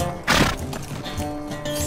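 A horse in the Lord of the Rings Online video game, with hooves clopping and a short snort or whinny over busy game background sound.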